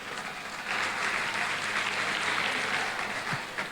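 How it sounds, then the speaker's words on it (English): Studio audience at a live South African television awards segment gives a big round of applause for the soap-opera acting nominees, sustained clapping that swells after a moment and holds steady, fairly close. "A big round of applause for our nominees"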